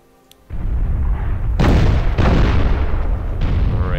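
Artillery fire in the World War I strategy game Commander: The Great War, a heavy booming blast followed by two more loud rumbling explosions in close succession, each decaying into a deep roar.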